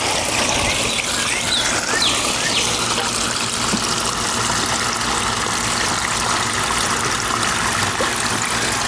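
Continuous rushing, gushing water pours steadily at close range as a pond tank is emptied for a water change, a dense splashing stream with no voices.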